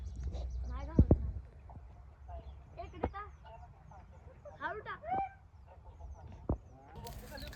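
Farm fowl, chickens with goose-like honking calls, cluck and squawk in short bursts, fairly close, with a few sharp louder cries over quiet outdoor background.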